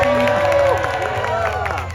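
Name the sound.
audience cheering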